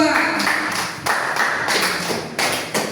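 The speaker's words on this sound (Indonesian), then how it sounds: "tepuk tangan buat kelompok 2" A school class claps for a student group after a presentation, the hands striking in uneven bursts of fairly loud, close applause with brief pauses between rounds.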